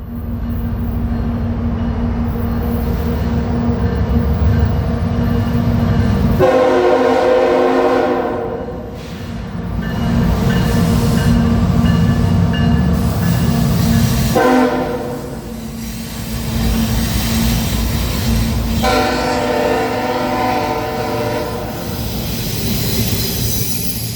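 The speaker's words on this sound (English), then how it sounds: "we got another train coming." A train rolls past on the old B&O line, loud and close, with a continuous rumble of wheels and railcars and several long horn blasts sounding in repeated stretches.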